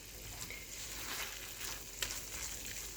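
Red meat sauce seasoned with Italian seasoning is stirred in a pan for lasagna roll ups, giving a steady close sizzle with light scraping and one sharper clink near the end, with no speech.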